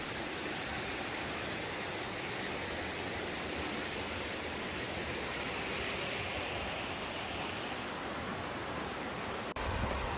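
A river flows steadily in Marble Canyon in Kootenay National Park, a broad, even rush of water sounding close and loud for the whole stretch, with no voices over it.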